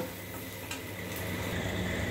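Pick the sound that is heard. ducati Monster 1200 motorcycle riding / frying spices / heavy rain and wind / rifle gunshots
frying spices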